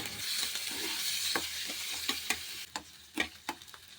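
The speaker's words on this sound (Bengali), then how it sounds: "তেলটা গরম হয়ে গেলে হাফ টিস্পুন জিরে একটা কুচি রাখা পেঁয়াজ দিয়ে বেশ ভালো করে আমি ভেজে নেব পেঁয়াজটা" Chopped onion with cumin seeds frying in hot oil in a pan, a soft constant sizzle broken by sharp scrapes and clicks of a spatula stirring, close and fairly quiet.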